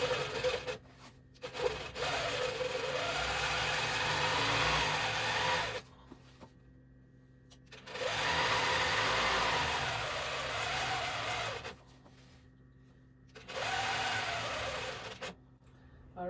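A longarm quilting machine stitches a quilt in three sustained runs of whirring, rubbing noise, separated by short near-silent pauses.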